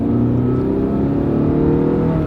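A Honda Civic's Honda engine held in a lower gear, giving a loud, steady, close engine drone with a rising tone, heard on its own without speech.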